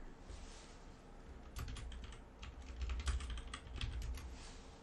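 Quick bursts of keystrokes on a computer keyboard as a group policy object name is entered, steady close clicking with a few louder clusters toward the end, no talking.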